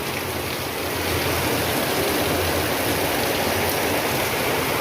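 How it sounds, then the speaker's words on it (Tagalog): Steady heavy rain pouring down outdoors during wet weather, a dense continuous hiss that stays loud and unbroken throughout with no voices. "Umulan ni Rinalyn na hindi natapos yung nilabhan ni Rinalyn mga kaibigan"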